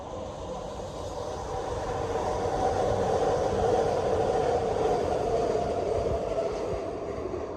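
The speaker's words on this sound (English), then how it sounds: "And you'll see right now, the SkyTrain's going to rumble by." A SkyTrain rumbles past near Burnaby's Central Park with a steady, loud roar that swells and holds, a continuous rolling rail noise with no voices.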